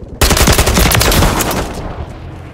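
Rapid automatic rifle fire in Call of Duty MW3 on the Meat map in Domination mode, a loud close burst of shots that cuts in suddenly and trails off after about two seconds.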